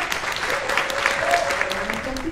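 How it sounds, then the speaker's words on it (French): Warm applause from an audience at a book fair in Livron-sur-Drôme: a steady, dense wash of many clapping hands running throughout, with a voice speaking over it. "que je vous demande d'applaudir très chaleureusement"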